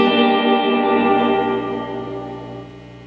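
Sustained electric guitar chord through a Peavey Classic 30 amp with reverb turned all the way up, drenched in heavy reverb and echo, ringing out loudly and slowly decaying.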